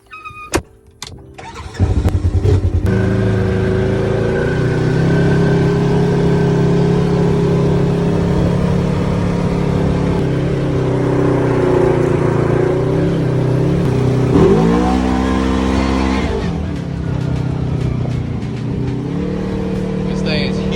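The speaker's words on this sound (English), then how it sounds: "we're gonna go take a ride in the side-by-side and show you how she does" A side-by-side UTV engine starts with a few rough bursts, then runs loud and steady through a ride, its pitch dipping and rising again as it changes speed, close up and mostly alone.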